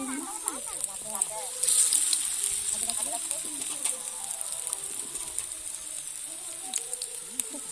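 Drumstick flower fritters fry in hot oil with a steady bright sizzle, while a voice murmurs intermittently and birds chirp faintly in the background.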